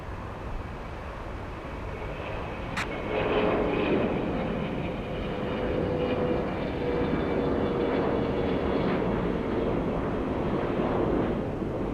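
A Frontier airliner lands on runway 8 left at Atlanta's Hartsfield-Jackson airport, its broad steady engine roar rising after a few seconds and holding at a moderate distance, with no talk.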